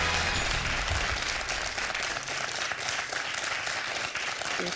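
A television quiz show studio audience breaks into sustained applause after a correct answer, a dense, steady clapping that fills the room for several seconds.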